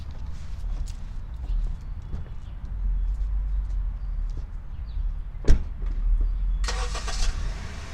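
Honda Civic engine starting on a driveway, a crank and catch into a steady idle rumble, with a short sharp knock midway and brief higher clatter near the end.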